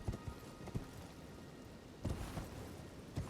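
Hoofbeats of the spectral horse Torrent in Elden Ring, a few soft clip-clops spaced irregularly over a low ambient wash, faint and without talk.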